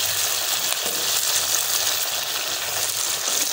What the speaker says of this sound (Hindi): ज़रा इसको फ्राई करेंगे ना, थोड़ा सा लाइट ब्राउन करके